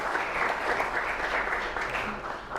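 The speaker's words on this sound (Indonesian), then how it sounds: "Beri tepuk tangan dulu untuk Salman" A high school class at SMAN 9 Bogor gives a student named Salman a round of applause: steady, fairly close group clapping that holds at an even level throughout.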